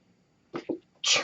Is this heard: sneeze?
yes